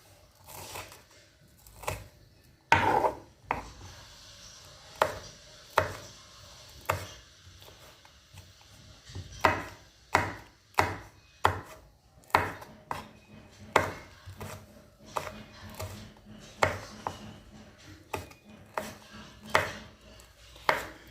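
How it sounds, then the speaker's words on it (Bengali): Knife chopping about eight raw green chillies on a board for a home-cooked pasta dish, a steady run of sharp, close, fairly loud thuds that grows quicker in the second half, with no talking. "তো কাঁচা লঙ্কাগুলো সেমভাবে কুচিয়ে নেব এখন।"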